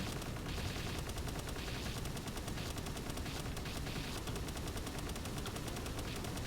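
Sustained automatic weapon fire in a shooter video game rattles on continuously at even volume, repeated shots blending into a steady clatter with no pauses.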